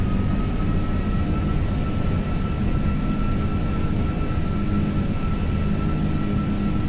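Steady, loud, continuous jet engine roar from an Airbus A340 in reverse thrust after touchdown on a flight simulator landing at Jeju, holding an even rumbling tone throughout with no voices.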